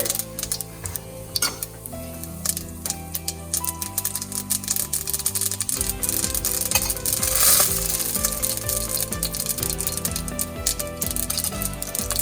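Mustard seeds splutter in hot coconut oil in a Tamil kitchen, giving dense irregular popping and ticking. The bursts grow busier and louder partway through and keep going with no voices.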